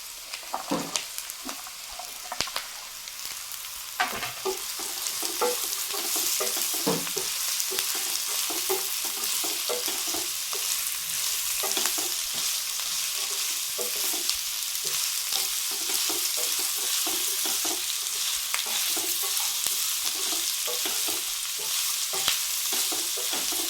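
Garlic cloves sautéing with half-cooked onions in a pan for garlic kurma, making a steady sizzle with frequent scraping and stirring clicks, close up and continuous, with no talking.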